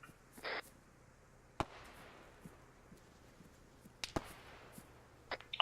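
A few sharp, isolated shots in a military game operation: single cracks spaced seconds apart, with faint scattered clicks between them.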